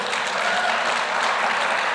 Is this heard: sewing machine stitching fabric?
no